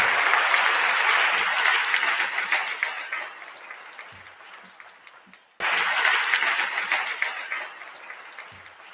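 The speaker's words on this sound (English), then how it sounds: "Let's give another round of applause for those wonderful projects." A large audience in a university auditorium applauds at a convocation ceremony, loud dense clapping that gradually fades, then abruptly resumes at full strength for the rest of the moment.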